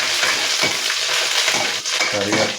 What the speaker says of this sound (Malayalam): കറിവേപ്പില ഇടുകയാണ്.